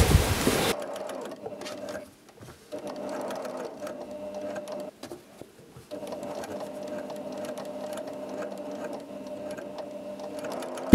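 A Suisei S955 KM sewing machine fitted with a gathering presser foot sews gathers in a continuous close whir, pausing briefly a few times before running on steadily.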